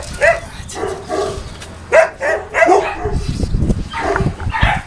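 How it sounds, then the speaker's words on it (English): A Boerboel dog barks close by, several loud barks in irregular bursts, while people talk nearby. "This is a good dog."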